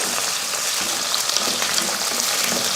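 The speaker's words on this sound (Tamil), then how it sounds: "சின்ன வெங்காயத்தை உரித்து எடுத்திருக்கேன் அதை சேர்த்துக்கலாம் இதை நல்லா வதக்கிடலாம்" Peeled small onions sauté in hot oil with mustard seeds and fenugreek, giving a close, continuous crackling sizzle with light stirring movement and a few tiny pops, no voices.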